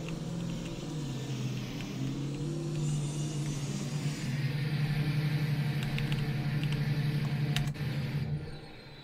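A truck engine hums and revs steadily at close range in a Yukon River Valley mining game as it pulls into a parking spot, holding a continuous drone that swells slightly midway before easing off.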